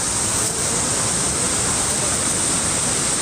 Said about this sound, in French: Ah, la cascade magnifique